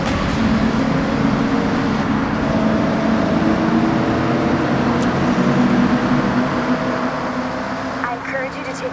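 Car engine in Forza Horizon 6 droning continuously inside a long, rounded tunnel, its reflected roar filling the space at a steady, fairly loud level before easing slightly near the end.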